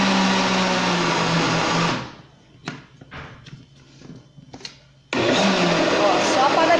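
A kitchen blender run in short pulses to mix pizza batter, a loud whirring motor that cuts out for a few seconds of quiet with faint clicks, then roars back on just as loud.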